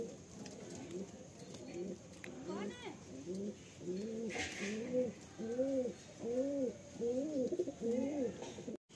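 Madrasi pigeons in a home loft give a run of soft, rhythmic, rolling coos, about ten in steady succession, fairly close, with faint background noise.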